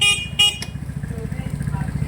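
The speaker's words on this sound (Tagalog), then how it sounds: "Nagbusina ka na." A 200cc 4x2 UTV buggy gives two short, close horn honks while its engine idles in a steady rhythmic putter, and people speak over it.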